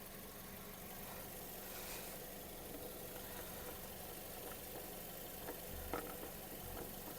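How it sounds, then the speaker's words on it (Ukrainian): A Kia Sportage 2.0 engine with 134,000 km idles steadily with a low, even rumble and a few faint knocks, fairly quiet throughout. "Робота двигуна."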